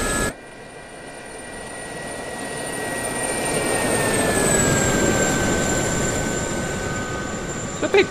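Sa-342 Gazelle helicopter in the DCS flight simulator making a flyby, a steady turbine whine with broadband rotor rush that swells toward the middle and eases off, with no talking.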